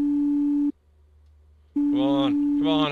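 In the horror game Bighead, a phone line on an unanswered emergency call gives a steady electronic tone that stops, falls silent for a second, then resumes as someone talks over it.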